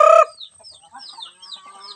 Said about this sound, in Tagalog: Marami-rami na ang manok.